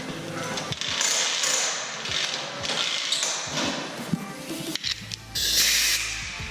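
An air compressor in a garage runs under test along with a hose reel, giving a steady loud hissing and spraying rush with a few thumps and a sharp burst of air near the end.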